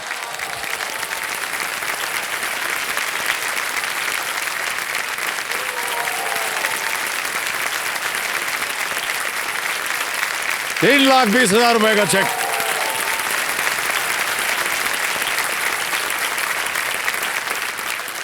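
Studio audience applause on a televised quiz show set, a steady broad wash of clapping running the whole stretch, with a host speaking over it and a brief burst of raised voices partway through.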